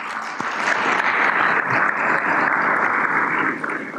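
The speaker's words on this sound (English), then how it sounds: "Please, a round of applause." Steady, dense applause from a large conference audience fills the whole stretch, loud and even without pauses.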